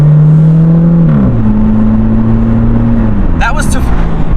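A car engine revs hard and climbs in pitch under full throttle up to 40, loud and close, with a brief shift partway through.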